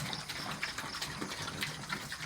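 Steady gushing water runs throughout, a continuous splashing pour close by into a pig pen, with no voices.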